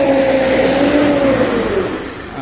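A 14-wheeler heavy goods truck loading cotton bales revs its engine loudly nearby, a rising and then easing drone that dominates the scene, with no talk over it.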